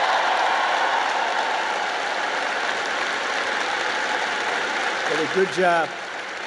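Audience at a political speech at Alabama University applauding in a broad sustained clatter of clapping, with a voice speaking briefly near the end.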